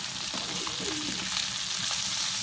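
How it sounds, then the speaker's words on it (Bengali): Fish pieces frying in a pan of oil, a dense, steady sizzle with light stirring sounds, close and continuous throughout with no talking. "বন্ধুরা আমাদের মাছ ভাজা চলছে"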